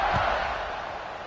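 Stadium crowd buzzing in an American football video game after a score, a steady, dense roar of many voices that holds evenly for the whole moment.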